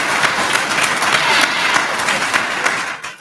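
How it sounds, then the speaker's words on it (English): A congregation claps together at a live-streamed synagogue Shabbat service, dense steady applause filling the room throughout before tapering off at the end. "we can continue to stand and clap"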